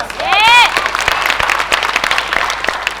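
A crowd at a street dance competition final cheers and applauds for the dance crew C2LOW, steady clapping under an announcer's voice, with a brief whistle-like tone at the start.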